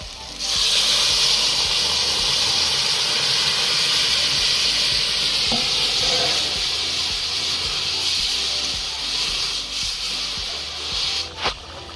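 Vegetables for a Bengali rupchand fish curry with eggplant and potato hit a pan of fried spice paste and green chilli, giving a loud, steady sizzling hiss close up that fades slightly, with a few clanks near the end.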